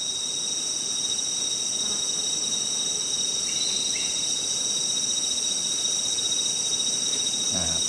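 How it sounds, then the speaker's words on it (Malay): Outdoors near a wild honeybee nest high in a tree, a dense steady insect drone and high whine fills the air continuously, with faint buzzing of bees flying around close by and no talk. "So lebah dah berterbangan dah."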